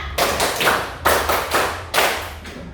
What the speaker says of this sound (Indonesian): Nah, tepuk 5.